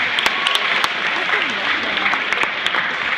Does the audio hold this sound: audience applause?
yes